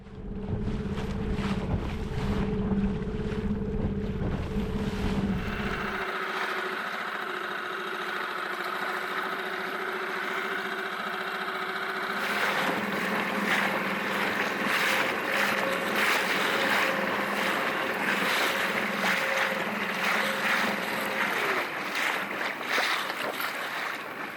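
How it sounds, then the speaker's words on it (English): An outboard motorboat engine drones steadily throughout at sea, with gusty wind buffeting the microphone and water rushing past the hull. "the outboard didn't mind the extra exertion of propelling the boat forward."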